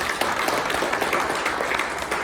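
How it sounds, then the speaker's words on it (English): An audience at a science event claps steadily after a keynote panel, a dense, even round of applause throughout. "Let's give them a round of applause."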